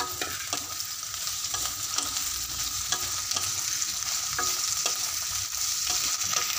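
Onion and capsicum frying for cabbage manchurian, a steady loud sizzle broken by regular scraping spatula strokes throughout, no talking.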